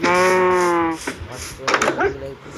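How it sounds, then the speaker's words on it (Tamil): A cow in Minecraft lets out one drawn-out, close, harmonic moo for about a second, followed by a few short rustling and clicking game sounds. "அந்த மாடு கூட இருக்குது"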